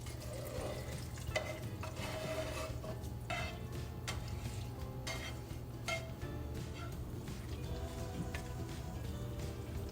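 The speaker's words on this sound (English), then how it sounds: "Now I'm gonna go ahead and add the vegetables to the sausage." Vegetables stirred into cooked sausage in a pan while making cornbread dressing, a steady close scrape and soft sizzle with scattered clicks of the spoon throughout, no talking.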